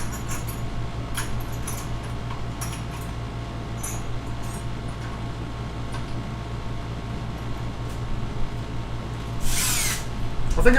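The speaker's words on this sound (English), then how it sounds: "Let's fire up a drill." A power drill on a cabinet or desk lock runs steadily with a low tonal hum and a rattly buzz, rising into a brief louder burst near the end, with no one talking.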